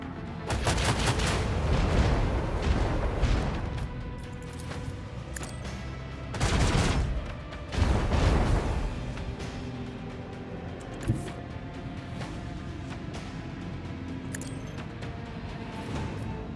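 Volume of Fire gunfire barrage in the video game Rogue Trader, a dense roar of rapid shots in heavy bursts, loudest early on and flaring again twice, with a lingering rumble between volleys.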